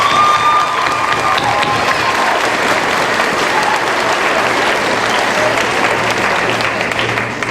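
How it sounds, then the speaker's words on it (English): Audience at an 8th grade promotion ceremony at an aerospace academy gives a sustained round of applause for the teachers, dense and steady clapping from a large crowd with a few faint cheers mixed in. "can we give them a big round of applause?"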